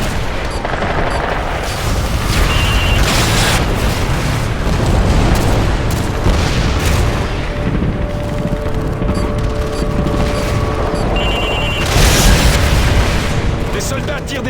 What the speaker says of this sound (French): Les soldats tirent des javelins sur le site d'évacuation.